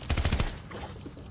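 Rapid burst of Fortnite gunfire, about five quick close shots in a row that fade into a short echoing tail.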